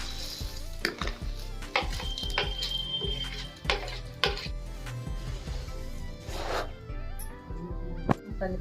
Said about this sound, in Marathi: आता आपला ही मसाला आपणाला मुरमुऱ्यामध्ये टाकून घ्यायचं आहे फ्राय केलेलं सर्व चाट टाकून घ्यायचं आहे